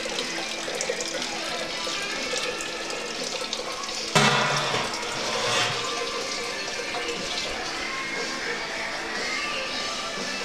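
Homebrew wort first runnings draining from the mash into a kettle, a steady broadband pouring rush throughout with a brief louder gush midway, no talking.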